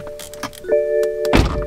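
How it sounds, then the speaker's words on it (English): A BMW car door thumps shut with a solid low-frequency closing impact near the end, following a few lighter clicks and a sustained electronic chime tone. "Open the door, close,"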